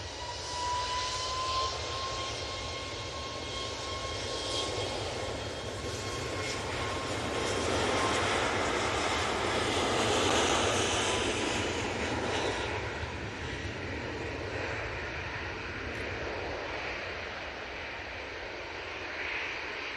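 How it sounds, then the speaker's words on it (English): A Ryanair Boeing 737 MAX 8 jet taking off from Manchester Airport, with a loud, sustained engine roar that swells to a peak midway and then slowly fades, carrying a thin whine, with no talking. "that Ryanair is off to Bratislava, 737 MAX 8"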